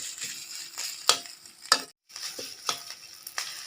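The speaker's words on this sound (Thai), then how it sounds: "ผัดคั่วพริกแกงให้หอมก่อนนะครับ" Thai curry paste stir-fried in a pan for a catfish and eggplant curry: a soft continuous sizzle broken by sharp scraping stirs of the spatula at irregular intervals, close and fairly quiet.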